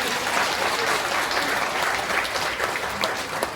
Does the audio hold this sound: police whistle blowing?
no